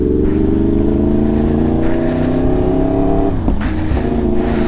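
A vehicle fitted with a new Sparks Fighter exhaust line revs loudly and close by, its engine note climbing steadily in pitch with a brief dip and recovery near the end, as during a gear change.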